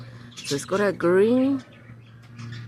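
Figbirds from a returning flock in a suburban garden give clear whistled, slurred calls in a short burst, heard alongside someone speaking briefly and a low steady hum.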